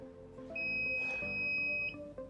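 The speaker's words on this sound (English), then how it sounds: "Press this section until a beep is heard." A clear electronic tone from an Aseptico surgical motor control unit holds for just over a second, heard close and alone in a quiet room.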